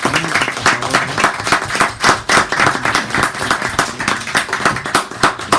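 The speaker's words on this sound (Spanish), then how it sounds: "les pediría por favor un aplauso a ustedes" Audience applause for the speakers at a Spanish-language academic session on Marx, a steady, dense clapping crowd filling the room close by and holding at an even level throughout.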